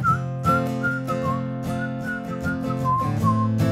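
Someone whistles a lilting melody over sustained, strummed chords, the tune gliding between notes at a relaxed pace.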